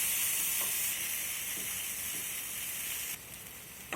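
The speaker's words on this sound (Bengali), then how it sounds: "লবণটা দিয়ে আমি আবারও ভালো করে ভেজে নেব।" Chopped tomatoes frying with salt in a pan as the base for a fish curry, a steady close sizzle and hiss with light stirring scrapes throughout, easing slightly toward the end.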